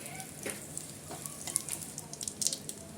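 Asafoetida and carom seeds sizzling in hot oil in a pan, a soft, steady crackle with scattered small pops, close and fairly quiet.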